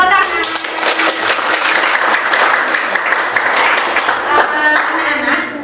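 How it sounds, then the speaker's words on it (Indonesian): Children clapping together in a classroom during a lesson, a loud, close, rhythmic burst of many hands that runs throughout, with a voice faintly present beneath it. "Oke, tepuk tangan."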